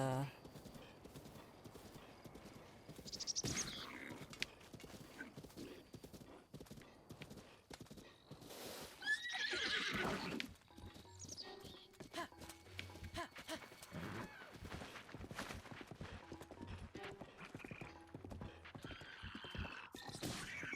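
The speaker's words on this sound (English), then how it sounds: "just have this big burly horse" Steady clip-clop hoofbeats of a big, burly horse in Zelda: Breath of the Wild, galloping in a quick even rhythm through the whole stretch, with a neigh partway through and someone talking over it much of the time.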